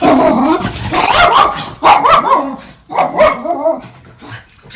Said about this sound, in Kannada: ಅಲ್ಲೊಂದು ನಾಯಿ ಉಂಟು, ಆ ನಾಯಿ ಅಲ್ಲೇ ಇರುದು.